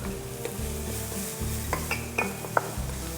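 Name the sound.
onion and curry leaves frying and being stirred in a pan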